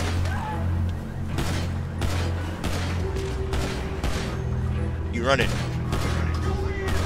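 Gunshots sound in a GTA 5 street roleplay, several loud sharp cracks spaced irregularly over a rumbling background, with people talking throughout.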